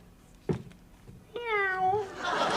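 A person imitates a cat meowing in a TV comedy scene, a short sound followed by one drawn-out, clearly voiced meow near the microphone, then a breathy hiss.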